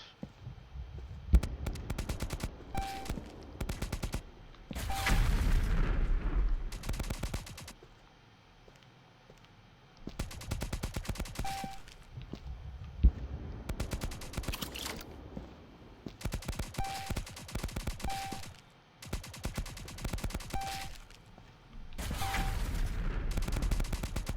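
Minigun fire in the arena shooter All Tomorrows Invasion comes in long, rapid bursts separated by short pauses, dense and loud throughout with faint clicking between volleys and no one talking.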